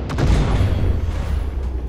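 Missile explosions in the sci-fi space card game Breachway boom loudly with deep, rumbling bursts that roll together into one continuous blast.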